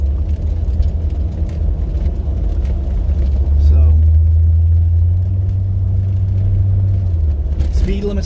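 A 1980 Corvette cruises slowly around a lake at low speed, its engine a deep steady rumble heard from inside the car, swelling briefly as it accelerates, with someone talking over it.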